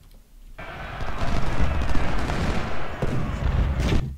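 Dense, continuous musket gunfire from a Civil War battle in Ultimate General: Civil War, a loud crackling barrage that swells after a brief quiet start and keeps rolling for several seconds with no one talking.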